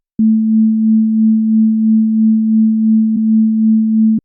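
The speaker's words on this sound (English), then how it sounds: "The low frequency of the modulator creates a gentle tremolo effect" A steady low sine tone amplitude-modulated by a low-frequency modulator, a gentle, slow wavering in loudness, a smooth tremolo pulsing evenly throughout, clean and alone.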